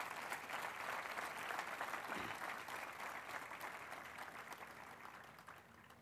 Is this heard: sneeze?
no